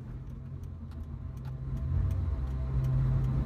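A car drives along with a low steady engine rumble that swells slightly, heard from inside, with faint ticking over it.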